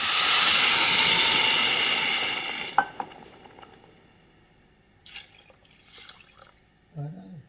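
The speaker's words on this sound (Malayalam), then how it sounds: "അപ്പോൾ നമുക്ക് വെള്ളം ഒഴിക്കാം." Water poured into a hot pan of sautéed vegetables seasoned with salt and turmeric, for a rava breakfast dish; a loud, steady hiss and sizzle dominates the first few seconds, then fades into quieter stirring clinks and faint distant sounds.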